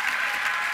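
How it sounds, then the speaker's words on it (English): An audience applauds a woman in a sustained, even wash of clapping, steady and moderately loud throughout with no voices over it. "Can you give a round of applause for this woman"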